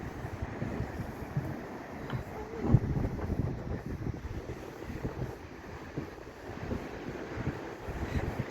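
Wind gusting across an open new bridge, a steady low rumbling roar with buffeting against the microphone, loud and continuous throughout with no talk.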